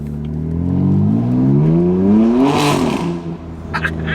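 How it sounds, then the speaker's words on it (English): A BMW M3 F81 Touring wagon with an aftermarket exhaust revs up in a rising throttle blip, the engine climbing in pitch and peaking loud and close before dropping back with a crackle. "And it just blips the throttle there."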